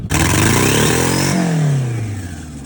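A GMC Sonoma engine revving hard while misfiring, a loud, close, rough roar with uneven stuttering pulses that climbs in pitch, then drops away as the revs fall off, with no speech.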